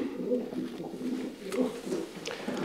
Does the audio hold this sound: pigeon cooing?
yes